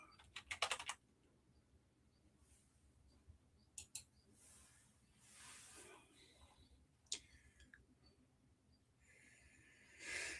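Brief bursts of typing on a computer keyboard, quiet and close, in short clusters separated by pauses over low room noise.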